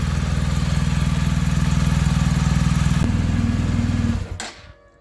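A BMW R1250GS boxer engine idling steadily after an oil change, close and loud with an even throbbing pulse, then cutting off abruptly and fading to quiet near the end.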